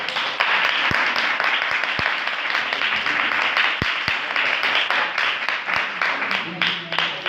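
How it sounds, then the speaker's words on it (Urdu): A church audience claps loudly in praise, the applause thick and continuous with scattered sharp claps and a few voices mixed in. "یسوع کے پاک کلام کے لیے ایک بار زوردار تالیاں"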